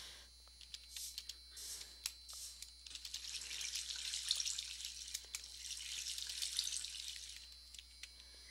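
Flowing water in a Minecraft Skyblock world, a soft continuous trickle mixed with light mouse and keyboard clicks, all quiet and close.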